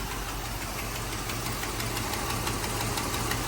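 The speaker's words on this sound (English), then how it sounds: "There's a misfire on this 500 SEC." A 1985 Mercedes 500 SEC engine running in drive with a steady uneven knocking misfire, a continuous close rumbling tone with a loud, consistent rhythmic stumble and no talk.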